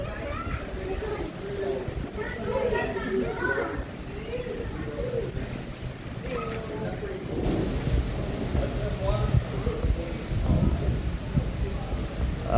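Steady rain pours down outdoors at a train museum in Hill City, South Dakota, a dense, even hiss of drops that swells slightly louder toward the end with soft low rumbles.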